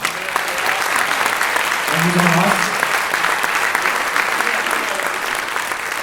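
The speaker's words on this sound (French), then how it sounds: "On peut l'applaudir, votre maman." Audience applause at a city of Chelles medal ceremony: dense, steady clapping from a crowd throughout, with a voice speaking over it briefly.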